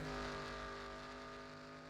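Video game race cars at Phoenix in a NASCAR Cup race, engines droning in a steady, sustained roar with held pitched tones, fairly loud and continuous with no talk.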